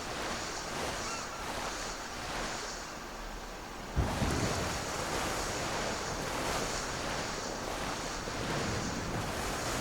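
Ocean surf rolls onto a beach in the video game Tears of the Kingdom, a continuous wash of waves and wind with a stronger surge partway through.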